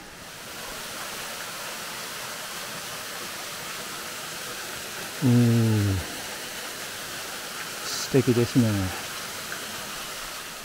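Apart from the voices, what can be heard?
waterfall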